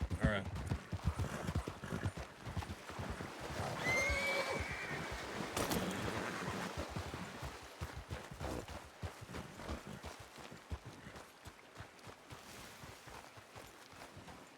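Horse hooves clip-clop steadily on the ground in a role-play video game, close and moderately loud, with a faint whinny partway through and people talking over it.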